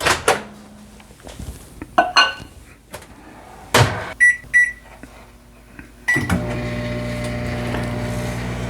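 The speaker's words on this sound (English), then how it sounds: "Microwave's on high, 7 seconds" A microwave oven set on high for seven seconds: door clunks and keypad beeps first, then the steady hum of the oven starting and running near and loud to the end.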